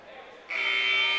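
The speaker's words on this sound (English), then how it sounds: "4-point lead for the Highclimbers off that 3 at the buzzer by Chucky Thompson." A loud, sustained electronic buzzer sounds at a boys' high school basketball game, Aberdeen at Shelton, marking the end of a quarter; it cuts in abruptly over the quiet gym murmur and holds steady to the end.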